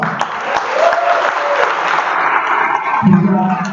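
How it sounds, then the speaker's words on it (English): A crowd applauds continuously, a thick wash of clapping that holds steady throughout, with faint voices mixed into the noise. "Give a round of applause."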